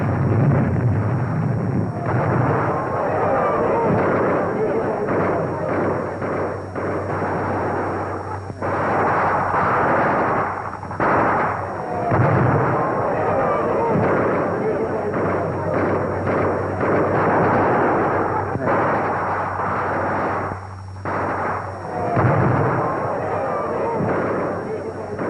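Dense, continuous gunfire and heavy bangs from German tanks firing at barricades during the street fighting for Paris in August 1944, loud and sustained with rumbling low booms throughout.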